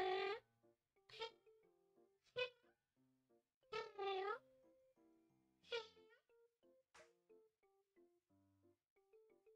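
A cat meows repeatedly near a desk microphone, a series of drawn-out, wavering cries with short pauses between them, loud at first and trailing into quieter mews.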